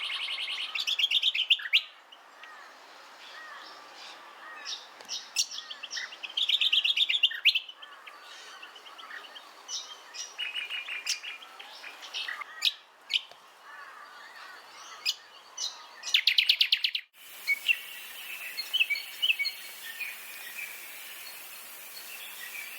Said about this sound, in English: moist gullies and other dense lowland habitats often resound with the calls of crescent honeyeaters in the cooler months